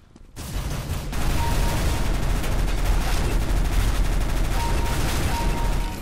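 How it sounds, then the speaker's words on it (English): Sustained, dense gunfire from Counter-Strike: Global Offensive, loud and continuous for several seconds after a brief quiet start, with overlapping shots blending into a steady barrage. "Wow, that took a lot of shots."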